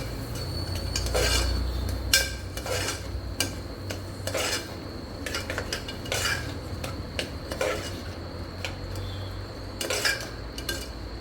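Kathiyawadi vaghareli khichdi is stirred and mixed in a metal pot, a spoon repeatedly scraping and clanking against the sides in uneven strokes over a low simmering hiss, close and with no voices.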